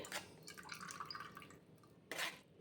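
Crushed spinach puree for palak sev is strained, and liquid drips and trickles softly close by in a few small splashes, quiet with no talking.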